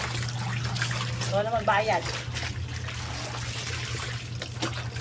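Water runs and trickles steadily while laundry is washed by hand, with a faint splash partway through and a low hum underneath, and someone speaks over it.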